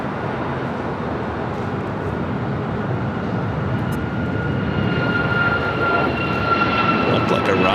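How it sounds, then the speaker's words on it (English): A United Boeing 737 MAX 9 takes off at LAX, a loud, continuous jet roar that steadily builds, with a thin rising whine layered over it. "Next takeoff is that United"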